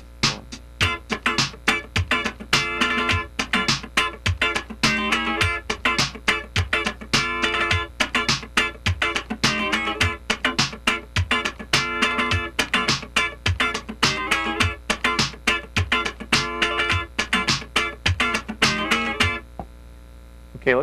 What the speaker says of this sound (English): here's a two-bar pattern that uses that 16th note triplet